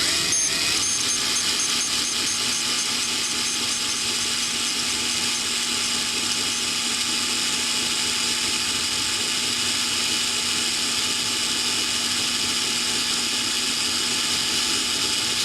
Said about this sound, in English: what I'm going to do is drill in.